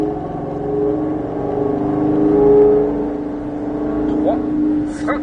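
Ford Mustang Shelby GT500 V8 with 760 horsepower on the Nogaro race circuit, its engine note droning and gradually climbing as it accelerates, heard from inside over someone talking in French.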